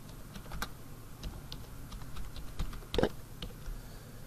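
Typing on a computer keyboard while entering text in AutoCAD, a quiet run of irregular clicks and taps with one louder cluster of keystrokes near the end, close by with no talking.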